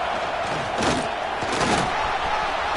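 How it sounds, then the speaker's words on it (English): A football stadium crowd roars and cheers in a steady, dense wall of noise, loud and continuous throughout with slight swells, no clear voices standing out. "This crowd bringing the energy and noise early."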